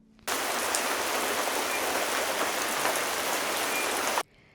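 Heavy rain pours down outdoors on the grounds of Versailles, a dense, loud, steady hiss of drops that starts abruptly and cuts off sharply after about four seconds, with quiet background before and after.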